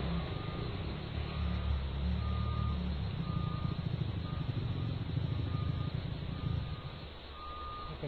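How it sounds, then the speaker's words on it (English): Earth-moving equipment backs up in a neighborhood, its reversing alarm beeping in an even, repeating rhythm over a low, steady engine rumble at moderate distance. "that's the earth moving equipment backing up"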